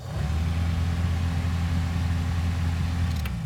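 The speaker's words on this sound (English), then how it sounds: "now when I test the blower motor," Heater blower motor in a 1997 Toyota Corolla running after a soldered repair, a steady loud hum with an even drone from start to finish, no talking.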